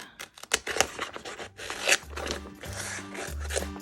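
Scissors snip and rustle through sticker paper in several uneven cuts, with crisp crinkling and low rubbing sounds close up.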